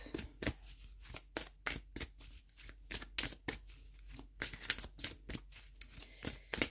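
Tarot cards being shuffled and drawn by hand, a close series of crisp flicks, riffles and slides in an irregular rhythm, quiet and with no talking.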